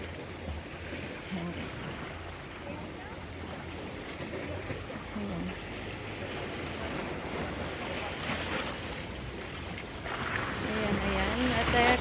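Continuous surf and wave wash with low engine rumble from boats, wind buffeting the microphone, and a swell of louder water toward the end.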